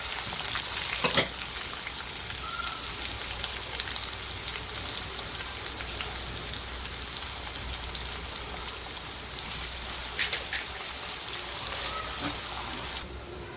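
A dense, even sizzle of onions frying in oil with salt runs throughout, with a few brief clicks and scrapes along the way.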